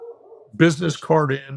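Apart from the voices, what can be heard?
dog barking in the background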